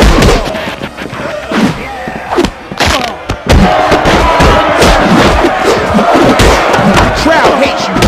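Roaring, jeering arena crowd in the fighting video game Def Jam Fight for NY, during a free-for-all match at the Foundation, loud and continuous with shouts and heavy thuds of blows breaking through; voices talk over it.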